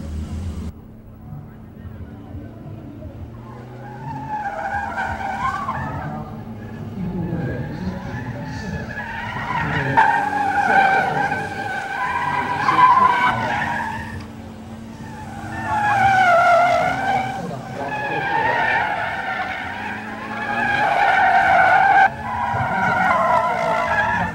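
A silver race car in a 2005 international gymkhana competition skids through its run, with repeated tire squeals rising and falling over a revving engine, loud and close throughout.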